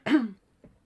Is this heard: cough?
yes